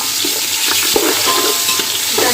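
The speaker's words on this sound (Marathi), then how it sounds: "तर आपल्याला ह्या तेलामध्ये पहिला आपण हे जे आहे ना अद्रक लसूणची पेस्ट घालायची आहे" Ginger garlic paste frying in hot oil, a loud, dense, continuous sizzle close up, with occasional stirring scrapes.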